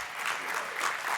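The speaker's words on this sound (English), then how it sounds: "Let's give him a round of applause." An audience at the 2016 NAMCO Summit breaks into applause during a welcome address, a brief, fairly quiet burst of many hands clapping together in a large hall.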